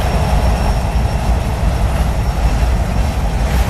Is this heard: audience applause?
no